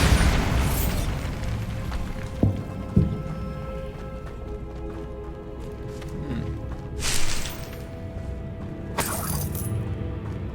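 The Bombarda explosion spell in Hogwarts Legacy on PS5 goes off as a blast with shattering bursts and booms, set against steady game ambience and followed by further sharp impacts.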